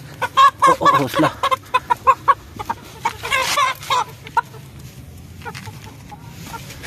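A young rooster with an injured leg clucks while being caught, giving a rapid series of close, agitated clucks and squawks that taper off into softer, sparse calls, with a person speaking briefly.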